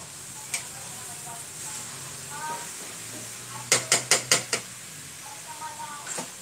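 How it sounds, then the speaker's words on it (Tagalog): Chicken pieces frying in a pan during home cooking give a steady soft sizzle, broken by a quick run of five sharp metallic utensil knocks and a few lighter clinks. "Piniprito-prito muna natin."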